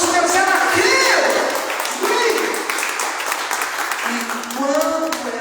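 A church congregation claps loudly and steadily, a dense wash of many hands close by, while a preacher's voice carries over the top.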